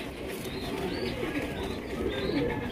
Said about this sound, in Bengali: ব্লু শার্টিন কবুতর দেখতেই পাচ্ছেন মাশাআল্লাহ, ডাকাডাকি করতেছে।